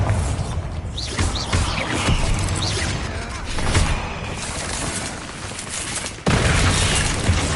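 Spell explosions from Incendio, Defendo, Confringo and Bombarda cast in the video game Hogwarts Legacy roar as continuous dense booms and crackling blasts, loud and close, with a sharp new burst near the end.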